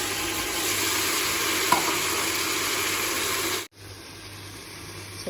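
Vegetables sizzling in a pan, a constant loud frying hiss with one faint tap, then cutting off abruptly to near quiet.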